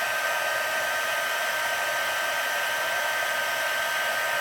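A heat tool blows hot air over silver embossing powder on a Christmas card, giving a steady, even whirring hiss from start to finish with no pauses.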